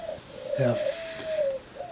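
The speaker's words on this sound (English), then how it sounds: "You're going to see a pigeon nesting" A pigeon sitting on its nest gives a low, soft coo at close range, with a brief voice and a faint steady whistle-like tone behind it.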